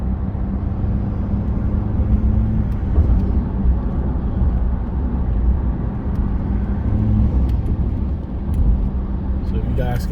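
Cabin of a truck with a 3.0 Duramax diesel and S&B cold air intake cruising near 54 mph, a loud continuous low engine and road rumble throughout, with someone talking over it and traffic passing.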